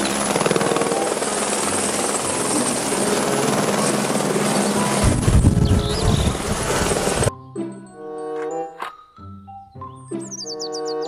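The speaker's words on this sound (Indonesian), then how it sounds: "Helikopter." Whirring toy helicopter rotor noise, loud and steady for several seconds, then it cuts to brief chirpy electronic tones.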